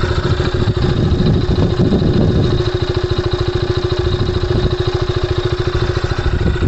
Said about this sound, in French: Je vais faire écouter un peu le moteur.